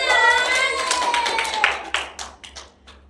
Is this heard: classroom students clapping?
yes